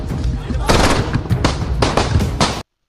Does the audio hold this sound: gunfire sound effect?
yes